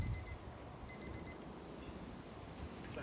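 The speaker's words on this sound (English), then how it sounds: "Hear my alarm going off." A cooking thermometer alarm beeps faintly while cowboy-cut ribeye steaks cook, short evenly spaced electronic beeps in two quick bursts over a quiet background.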